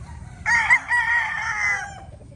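A rooster lets out a single loud, close crow lasting over a second amid yellow-legged hatch pullets, with a low murmur of the flock underneath and no talking.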